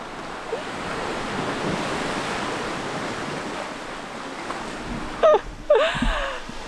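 Ocean surf at Secret Beach on Siargao washes in as a steady, close roar with wind buffeting the microphone, and a short burst of handling noise near the end.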